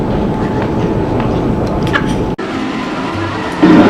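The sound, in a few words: Paris subway train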